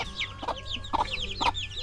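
Several young chickens cluck close by in a short run of repeated, clipped clucks and chirps, with a steady low hum in the background.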